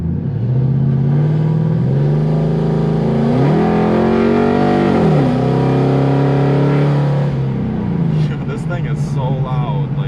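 A Ford Crown Victoria with a swapped 7.3L Godzilla V8 drives loudly on the street, its deep engine droning and rising and falling through revs, with a person's voice under the roar.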